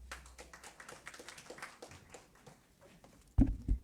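Audience clapping for a vice chancellor at a university moot court competition: scattered, fairly faint applause from a room, with louder thumps near the end.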